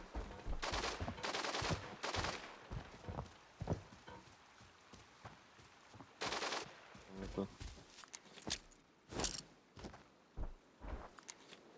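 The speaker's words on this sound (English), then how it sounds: "He has to be shooting like SKS or something" SKS rifle gunfire in the video game Arena Breakout, sharp single shots and short bursts scattered unevenly among footsteps and game noise, with a voice talking between them.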